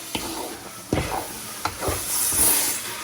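Semolina halwa with milk being stirred in a pan, soft sizzling under a few distinct scraping strokes of a spoon against the pan, close and fairly quiet.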